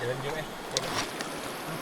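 Fast-flowing river current during a river crossing on the Gunung Tahan trek, a steady broadband rush of water with brief splashes, close and continuous, while people talk nearby.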